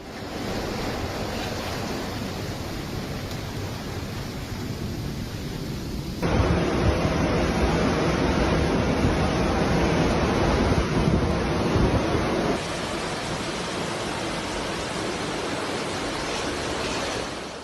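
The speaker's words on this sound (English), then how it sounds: "seaside streets were submerged by enormous storm surges brought on by Hurricane Kirian" Storm surge waves from a hurricane crash and wash over flooded seaside streets in Marina di Pisa, Italy, a loud continuous roar of surf mixed with heavy wind buffeting the microphone, growing louder in the middle.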